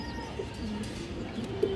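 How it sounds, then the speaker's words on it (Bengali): Young and adult pigeons kept at home, including Musaldam birds, coo faintly in short low murmurs, with a thin steady whistle-like tone rising near the end over a quiet background. "খুব সুন্দর একটা কবুতর মাশাআল্লাহ"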